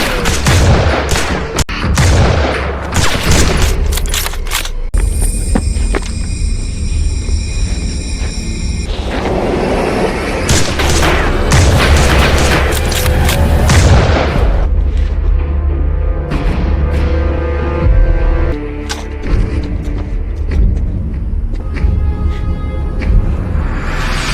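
Gunfire in an action film scene as Calong shoots at Darong: loud, dense bursts of shots and booming impacts mixed with dramatic score, continuous and close throughout.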